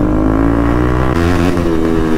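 A Bajaj RS200 motorcycle with a loud exhaust revs hard up close at a rider meet-up, giving a deep, steady engine drone that shifts pitch as the throttle rises partway through.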